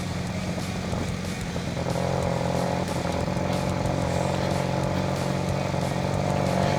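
A 1980 Honda CB 400 N built as a scrambler, ridden at moderate pace, its engine holding a steady throbbing drone with wind noise over it, close and continuous throughout.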